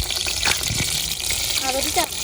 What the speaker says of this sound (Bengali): কাঁচামরিচ ভাজা হইতেছে